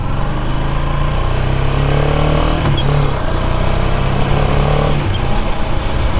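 A motorcycle engine drones loudly and steadily throughout a ride, with a constant low rumble and slight shifts in revs.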